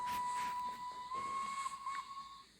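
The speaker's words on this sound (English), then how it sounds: "Sound the whistle." A Flying Scotsman steam locomotive whistle in the Train Sim game blows as one long steady shrill tone, loud and close, over a steam hiss that holds for over two seconds before cutting off.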